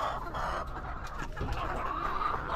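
Chickens cluck and murmur close by in a busy farmyard, with overlapping soft calls and scratchy bursts over steady background noise.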